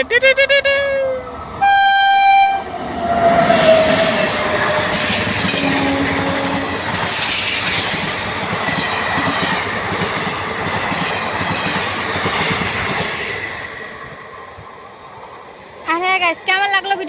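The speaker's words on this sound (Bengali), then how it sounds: "ট্রেন আছে দাঁড়াও ট্রেনটা যাক" A train rumbles past close by with clattering wheels and a horn tooting at the start and end, while people talk over the noise.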